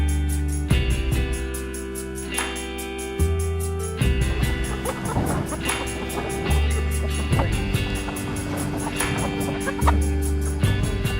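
Chickens in a chicken tractor on grass cluck and squawk repeatedly, loud and close, with overlapping calls in irregular bursts over a steady low mechanical hum.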